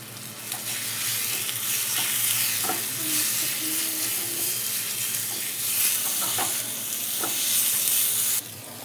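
Turmeric being stirred into a chilli paste masala in a hot pan, an even close sizzle with repeated scraping stirs that stops abruptly near the end.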